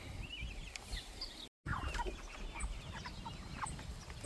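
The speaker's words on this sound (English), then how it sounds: "There are too many chickens in that chicken tractor right there." Several chickens cluck in a crowded chicken tractor outdoors on a farm, with soft scattered calls and scratching over a steady background, briefly cut off by a short gap of silence partway through.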